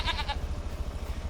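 Newly arrived farm goats bleat in a short, wavering cry near the start, heard clearly over a steady low rumble before the sound fades into the background noise.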